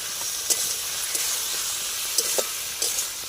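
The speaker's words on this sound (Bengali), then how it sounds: "ওপরে কাজু বাটাটা দিয়ে দেব কষানোর সময় কাজু বাটাটা দিতে হয়" Shukto being stir-fried in a pan with cashew paste added, giving a loud continuous sizzle with periodic scraping stir strokes, no talking.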